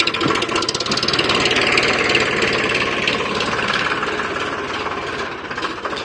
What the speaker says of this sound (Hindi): और ट्रैक्टर को श्याम सुंदर भाई गांव में ले जाएगा।